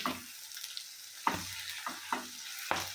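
Chili powder stirred and sautéed in a hot pan for chili pickle: a steady oily sizzle with several sharp scrapes of a spoon against the pan, close and alone.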